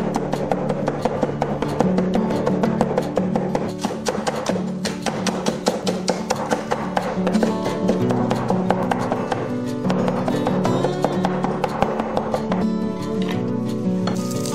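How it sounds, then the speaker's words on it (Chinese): A knife chops garlic, scallion and ginger in a fast, steady stream of sharp taps on a board, under a constant tonal backing bed at a strong, even level. "切点蒜末、葱花、姜末"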